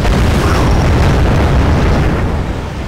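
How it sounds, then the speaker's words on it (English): Artillery explosions in the strategy video game R.U.S.E., a loud, dense rumble of booms rolling together for a few seconds and easing off slightly at the end. "here's where he brings his artillery to use before I can get my guns cloaked"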